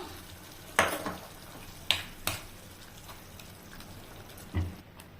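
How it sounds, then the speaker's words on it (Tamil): Mashed elephant foot yam is stirred in a tamarind gravy, with soft sizzling and a few scraping clanks of a spoon against the pan, quiet and close, with no talk. "அதுக்கப்புறம் நல்லா ஒன்று சேர்ந்து வரும்போது நல்லா கிண்டி விட்டுக்கலாம்"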